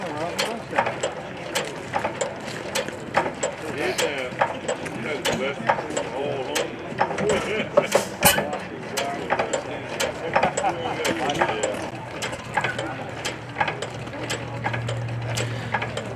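Antique IHC 5hp vertical and 6hp Famous hit-and-miss engines run at an open house, giving off repeated sharp mechanical clacks and pops in an uneven rhythm, nearby and moderately loud, with people talking over them.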